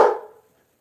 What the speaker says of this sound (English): What are they barking about?